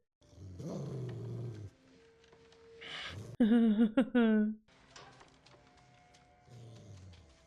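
Snarling dogs in a Game of Thrones battle scene: a loud, harmonic growl-roar burst mid-clip, surrounded by low rumbling growls and breathy sounds under dramatic score.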